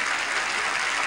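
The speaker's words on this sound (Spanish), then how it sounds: "Un gran aplauso." A studio audience on a Spanish-language Saturday variety show breaks into loud, dense, continuous applause, filling the space with no pauses.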